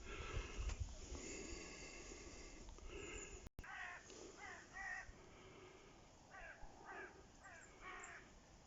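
Several crows caw on an autumn countryside walk, harsh calls arriving in short clustered bursts at moderate distance over a faint breezy background, with no talking.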